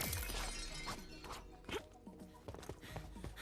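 Security glass shatters in the video game Relooted, with a loud crash and breaking noises scattered through the clip over a dense, busy game backdrop.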